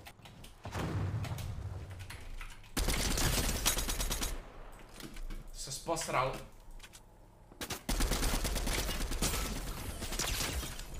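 Gunfire in a Fortnite no-build match: sharp bursts of rapid automatic shots in clusters, loud and close, separated by quieter gaps with someone talking over parts of it.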